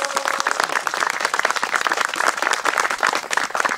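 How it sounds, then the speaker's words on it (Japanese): An outdoor festival audience at a hydrangea and firefly event in Date City claps for an ocarina group, a lively close patter of many hands with distinct individual claps, alone without talk. "もう一度大きな拍手をお願いします。"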